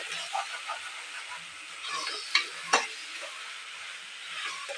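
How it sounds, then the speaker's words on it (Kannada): A masala mixture with garam masala powder is stirred in a pan over a steady background sizzle, with a few scraping knocks of the spoon, close and moderately loud. "ಈಗ ಮತ್ತೊಮ್ಮೆ ನಾನು ಚೆನ್ನಾಗಿ ಮಿಕ್ಸ್ ಮಾಡ್ಕೊಳ್ತೀನಿ."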